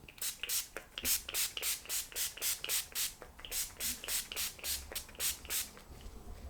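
Face spray mists onto skin in a long, steady series of about twenty short, crisp pumps at a regular rhythm, close to the mic and quiet, with no talking.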